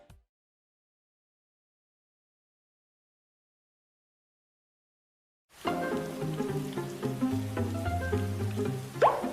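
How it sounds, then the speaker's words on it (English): Rain falls in a weather radio ad: after a long silence, a steady patter of rain begins abruptly and continues at moderate loudness to the end, mixed with faint tonal sounds. "This rain will be out soon."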